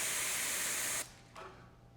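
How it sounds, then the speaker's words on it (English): Airbrush spraying paint onto a stencil over a rivet, a steady close hiss that cuts off abruptly at the one-second mark, followed by a shorter, fainter burst of spray. "I'm spraying on the stencil"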